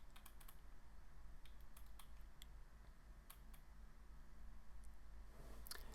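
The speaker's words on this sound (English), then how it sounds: "I'm going to type in information about this medium.com article that I'm citing." Soft, rapid clicking of keys on a computer keyboard as an article citation is typed into a WordPress post, in irregular bursts of keystrokes over a steady low background hum, with no one speaking.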